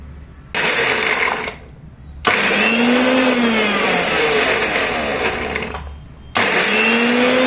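Mixer grinder coarsely crushing peeled garlic, cumin and chillies runs in loud whirring bursts, spinning up, cutting off briefly and restarting with a rising motor whine, close and without talk.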